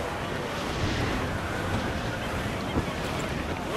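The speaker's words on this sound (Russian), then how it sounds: "Ветер крепчает." Strong wind and rough sea roar in a dense, steady wash while sailing a ship in Assassin's Creed IV Black Flag, loud and continuous throughout.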